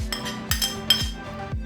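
Roasted ingredients for Kerala-style kara chutney go into a mixer jar with a series of four or five bright metallic clinks at a fairly steady pace, close and moderately loud with no talking.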